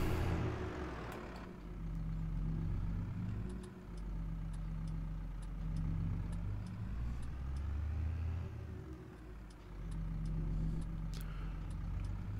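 A farm vehicle in Farming Simulator 22 drives at full throttle out to the field, heading off to remove stumps and mulch brush. Its engine makes a steady, loud low rumble with slight swells in pitch.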